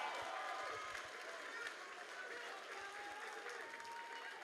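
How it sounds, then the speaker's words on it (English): Kickboxing event crowd applauds two fighters after three rounds, sustained clapping with scattered cheers and voices, fairly distant and even in level. "a round of applause for two great fighters going the distance"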